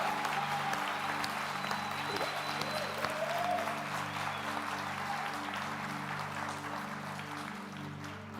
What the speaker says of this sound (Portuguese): Eu quero convidar a igreja, a CCNV, a aplaudir a Deus pela vida de todos os nossos visitantes.